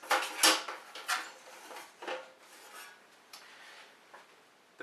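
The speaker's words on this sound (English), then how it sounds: "I'm going to open up the barn doors." Metal barn doors on a stage light swung open, giving a few scraping, clinking metallic rubs and taps at close range, the sharpest burst near the start followed by softer handling clatter.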